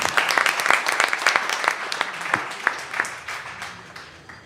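Audience applause at a startup pitch competition, a steady wash of many hands clapping with sharp individual claps standing out, fading slightly toward the end.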